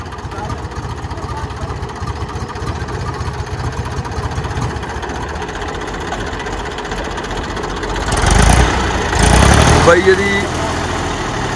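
A 1985 Mahindra 495 tractor engine idles with a steady low rumble under talk, then swells louder for a couple of seconds as it is started and revved.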